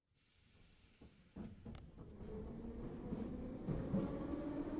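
Subway train in The Hungry Town video game: a faint start builds into a steady rumble of the carriages running, with clicks and rising mechanical noise, no talk.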